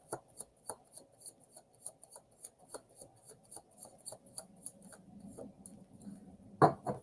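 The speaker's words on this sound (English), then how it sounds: "That was a good shuffle." A deck of tarot cards is shuffled close up, making a quiet, quick series of crisp riffling slaps in an even rhythm, with a louder burst near the end.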